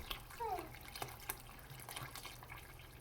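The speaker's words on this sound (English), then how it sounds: "I'm going to go ahead and top off our water" Water is poured from a kitchen container into a hot steamer to top it off, making a soft, steady trickle and splash under a faint room hum, with a few light knocks and drips close by.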